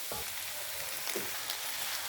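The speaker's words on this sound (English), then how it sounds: "I've been frying this for 10-15 minutes now, so I'm going to reintroduce back the rice." Rice sizzles with a steady frying crackle in a hot pot, with a couple of soft scraping stirs, no voices.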